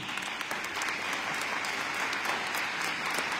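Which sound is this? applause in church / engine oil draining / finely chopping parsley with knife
applause in church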